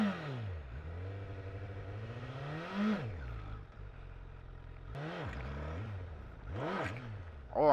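A Honda liter-class motorcycle revving up and down as the rider practises popping the clutch for a wheelie, the engine rising and falling in several swells with clattering mechanical noise, close and steady, with no voices.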